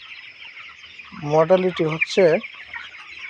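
Twenty-day-old chickens on a poultry farm give a short run of close, throaty clucks, with someone talking over them.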